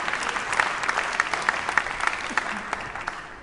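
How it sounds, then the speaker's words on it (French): Audience applause at an award announcement, a sustained patter of many hands clapping at moderate loudness with a few louder individual claps standing out, tapering slightly toward the end. "on peut déjà les applaudir"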